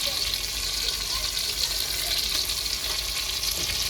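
Raw mango pieces fry alongside tomatoes in a pan, making a steady, close sizzle with a watery bubbling edge that holds on without a pause.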